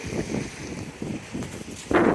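Strong wind blows at sea off Saint Martin's Island while crew haul a large fishing net, gusting in uneven bursts against the microphone with a rough, buffeting rush that swells louder toward the end.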